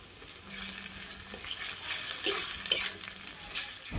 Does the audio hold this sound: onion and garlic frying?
yes